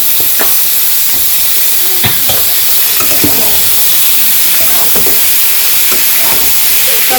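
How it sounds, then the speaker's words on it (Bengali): Dried fish and chopped tomatoes sauté in a pan for a village-style shutki dish, giving a steady broad sizzle broken by occasional clinks and scrapes of stirring, with no voices. "টমেটোটাও ভালো করে কষিয়ে নেব।"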